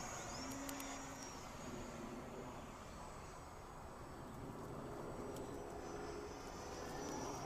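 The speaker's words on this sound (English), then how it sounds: "Look at how fast this thing goes." Freewing 64mm F9F Panther RC electric ducted-fan jet on a 4S battery flying overhead, a steady distant whooshing roar with a faint high whine, fairly quiet and continuous.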